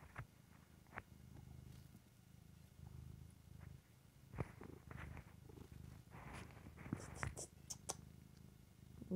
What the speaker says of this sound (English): I put it there so you can hear him purring.